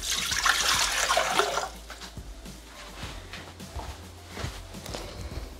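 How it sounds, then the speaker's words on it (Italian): Water poured into a Thermomix TM6 jug, a loud splashing gush at first that fades into lighter trickles and a few knocks as it settles. "Iniziamo la ricetta mettendo all'interno del boccale l'acqua."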